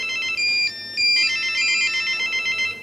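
A mobile phone ringtone plays during a live variety show broadcast from an auditorium, a bright electronic melody of repeating high tones running steadily for about three seconds with no talk over it.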